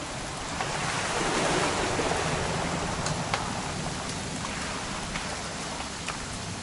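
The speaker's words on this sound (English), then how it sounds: "It's gonna rain the whole weekend," Steady rainfall in the video game What Remains of Edith Finch, a soft, continuous patter with occasional sharper drops, moderately quiet and even throughout, with no voices over it.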